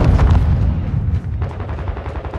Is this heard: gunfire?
yes